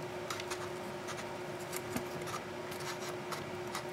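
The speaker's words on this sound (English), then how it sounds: "So let me cut off the edge." Scissors snip and rasp along the edge of a sheet of craft paper, with several quiet close cuts and rustles over a faint steady hum.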